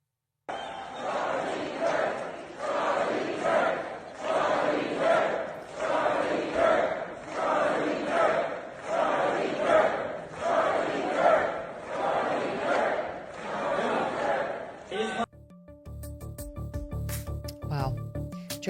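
A packed crowd at a sold-out event roars and chants in rhythmic surges, loud waves repeating about once a second before cutting off to a different sound at the end.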